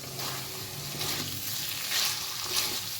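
Poppy seeds sizzling in a little raw mustard oil in a pan on the stove while being stirred, a steady soft frying crackle with scraping stir pulses, no talking.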